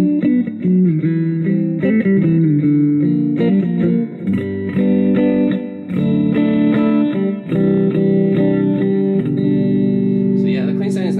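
An electric guitar plays a clean tone through a Positive Grid Spark 40 amp with delay and reverb, using both neck and bridge pickups. Chords and single notes ring out loud and close, with echoing repeats, and a short spoken bit comes at the end.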